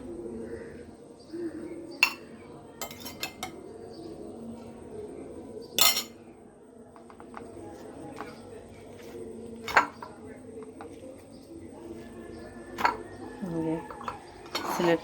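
Fried potatoes and breakfast being served out onto several plates at home, with a few sharp clinks of cutlery and dishes scattered among steady background noise while someone talks throughout.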